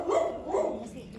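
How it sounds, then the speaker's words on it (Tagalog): A dog barks a few times in quick succession, moderately near, overlapping with people chatting outdoors. "Ay, aso."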